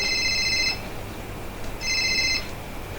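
A telephone rings in two bright electronic bursts separated by a pause, over steady background hiss during a stage play at a theatre festival, with no talk.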